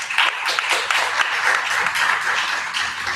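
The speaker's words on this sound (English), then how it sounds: "Please give yourself a round of applause" Workshop audience applauding steadily after a talk, a dense continuous clatter of many hands clapping at moderate loudness with no voices over it.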